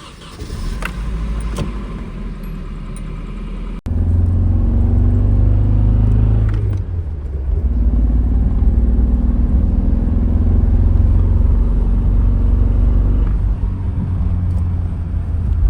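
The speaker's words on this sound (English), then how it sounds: "it started misfiring so bad that I couldn't even drive the car" Loud car engine misfiring, running rough and uneven, revving with a sputtering, sluggish rumble after it starts up, close by, no talking.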